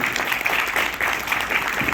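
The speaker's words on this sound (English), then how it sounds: "A big round of applause, please." An audience at a school safety patrol event gives a round of applause, a dense, steady burst of many hands clapping throughout with no talk over it.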